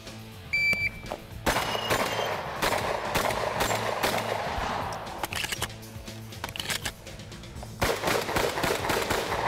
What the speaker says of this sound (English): Nice shooting there, Davey!